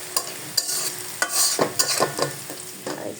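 Onions and spices fry in a pan for a catfish curry, the sizzle broken by repeated scraping stirs of a spoon, close and fairly loud with no talk.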